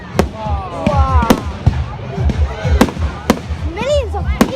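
Fireworks bursting at a crowded outdoor display, sharp loud bangs every second or so with crackling between and whistling rising shells, while people talk and exclaim underneath.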